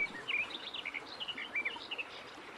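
Small birds chirp in a forest tree in a cartoon, a series of bright, quick tweets repeating at an uneven pace over faint background ambience.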